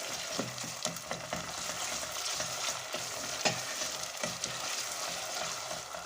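Tomato paste fries in oil in a pan with a steady, dense sizzle, punctuated by light scraping clicks of stirring throughout.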